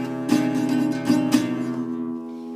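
Acoustic guitar strums barre chords in a simple up-and-down pattern for a song, a few close, moderately soft strokes that ring out and fade, with no talking.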